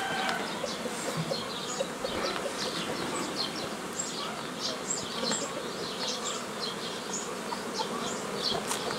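Honeybees swarm around a beehive, a dense, continuous buzz of many insects close by at a moderate level, with scattered higher whines from individual bees passing near.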